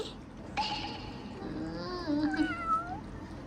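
A cream-colored Ragdoll cat meows several times indoors, drawn-out, wavering cries close by and moderately loud, with one household among many Ragdoll cats.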